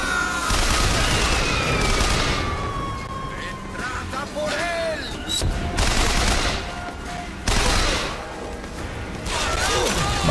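Gunfire from a machine gun in the BioShock Infinite video game, loud rapid bursts mixed with game effects and booms across the whole stretch, under a continuous dense wash of in-game noise.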